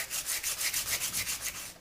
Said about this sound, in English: I keep sanding using finer grits